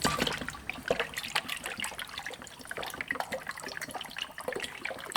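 Fresh brake fluid poured from its container into a hand-pump brake bleeding tool, a steady close liquid trickle and splash running continuously on its own.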